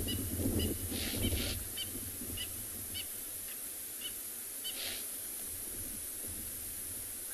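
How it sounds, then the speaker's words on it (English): A tall spurfowl gives a few harsh alarm calls at dusk on a South African reserve, loud and fairly near at first, then sparser and fainter over a steady hiss of background noise. "Sounds like a tall spurfowl, which is making an alarm call."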